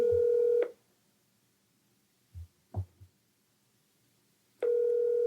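A phone call rings out with a steady tone that stops, a few soft clicks and thumps follow in the silence, then the tone sounds again.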